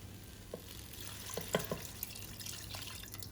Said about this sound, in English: Now we'll add in our water. Using 2 cups of water.